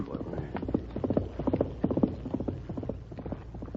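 Rapid clip-clop of horse hooves galloping close by, steady and rhythmic, with brief voices mixed in.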